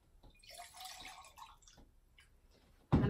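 Pottery glaze pours into a porcelain tea bowl with a short, close splashing trickle that fades into scattered drips, ending in a sharp knock.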